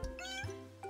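A house cat meows once at an inn, a short, rising-then-falling mew that is close but fairly quiet, with a faint low hum behind it.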